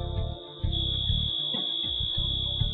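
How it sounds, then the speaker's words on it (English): A steady, loud electronic alarm tone from an FM-200 fire suppression system in a computer room sounds as the second alarm, holding one continuous high pitch over low rumbling background noise throughout. "The system sounds a second alarm and begins a 30-second"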